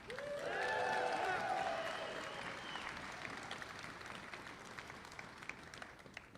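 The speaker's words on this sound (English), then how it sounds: "Another round of applause for Todd." Crowd applause at a union rally for striking Kellogg's workers in Battle Creek, starting with cheers and whistles over the clapping, then tapering off into softer scattered claps.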